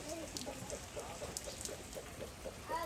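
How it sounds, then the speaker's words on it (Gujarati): Steady rain falling at a home, a dense soft patter of drops continuing evenly throughout, with occasional brighter drips close by. "વરસાદ શરૂ થઈ ગયો છે"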